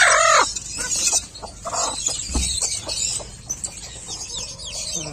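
Hens cluck and call near newly hatched chicks, with a loud squawk at the start, then repeated clucks and high chick peeps, close and busy, with no talking.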